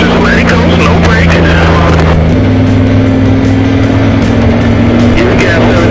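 Race car engine roaring at sustained high revs on a track, a loud steady drone with a pitch shift partway through as the car accelerates; a driving coach talks over the engine throughout.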